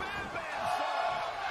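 A wrestling crowd roars in WWE 2K20 during a Hell in a Cell match, a steady, loud wash of cheering that fills the whole moment, with faint voices mixed through it.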